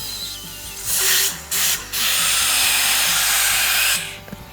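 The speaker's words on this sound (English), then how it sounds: "Now we'll take our air compressor." Compressed air hisses loudly from a spray nozzle into an alligator being prepared for trophy processing, a broadband rush in a few bursts with short breaks before it cuts off.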